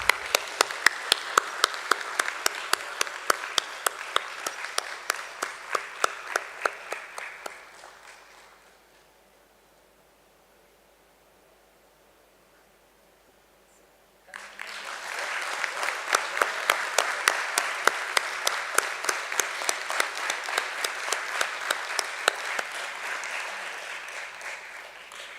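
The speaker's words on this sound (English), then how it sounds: "Could we have a big round of applause" A crowd at a listing ceremony for Sanofi Consumer Healthcare India Limited at BSE claps in a loud, sustained round of applause that dies away into near silence, then a second strong burst of clapping rises and continues to the end.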